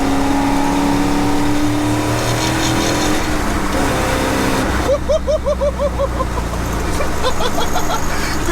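Engine of a 50-year-old farm truck sleeper accelerating hard around a corner, a loud sustained roar that rises in pitch and surges with revs, up close from inside the cab.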